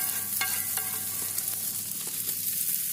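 Steady, close sizzling and crackling of chicken wings frying in a hot pan, with faint clinks of stirring and no voices.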